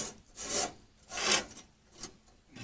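A flue baffle being pulled out of a propane fridge's flue tube with pliers gives several rough metallic scraping rasps, each about half a second long, separated by short pauses. The rasps are close and moderately quiet, with no talking.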